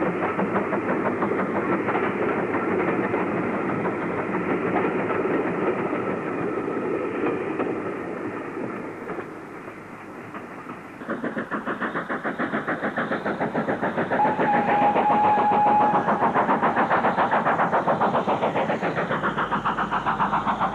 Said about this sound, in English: A2031 is again seen on passenger duty, passing under Neptune Road Bridge near Towyd Wharf Station of the Talathyn Railway